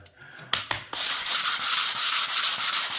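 Close, rhythmic scraping of sandpaper rubbing over hardened filler on a wall, a couple of short strokes first, then steady back-and-forth sanding.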